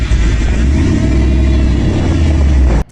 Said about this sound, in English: If you have a 70s Ford and your power steering sounds like this